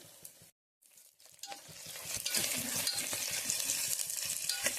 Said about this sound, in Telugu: 5 మినిట్స్ ఆగి చూస్తే మంచిగా ఫ్రై అయితే అవుతున్నాయి. కలుపుకుందాం ఒకసారి.